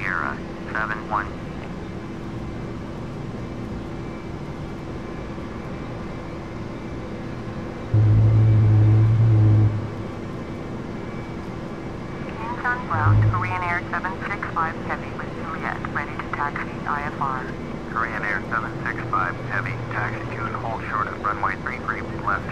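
Korean Air Boeing 737 taxiing in Flight Simulator X, a steady low engine hum running throughout with a louder short rumble burst midway, while a voice speaks over it in the second half.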